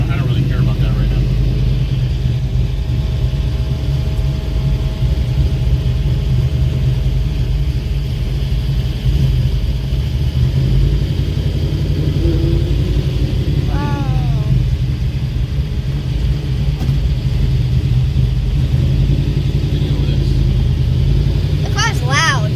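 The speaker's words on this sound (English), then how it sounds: "The car's loud." An old car's engine idles and rumbles loudly and steadily up close, a deep continuous drone that holds for the whole stretch, with people talking briefly over it.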